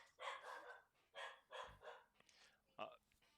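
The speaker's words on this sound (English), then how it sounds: "Anyone want to buy a sausage dog?" A dachshund barks in a run of five or six short, sharp bursts indoors, fairly quiet and with pauses between them.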